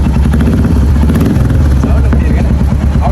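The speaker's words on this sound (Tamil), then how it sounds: "இந்த பைக்கிலே எனக்கு பிடிச்ச விஷயம் இதோட சத்தம்" A new motorcycle's engine runs with a loud, steady throbbing rumble that fills the whole span, with no talking heard over it.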